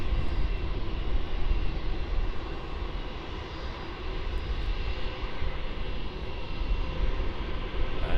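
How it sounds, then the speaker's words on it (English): Jetstar Airbus A321 jet lining up for departure at Melbourne Airport, its engines giving a steady, loud, broadband roar that holds throughout with no voices. "that Jetstar 321 now is now lining up"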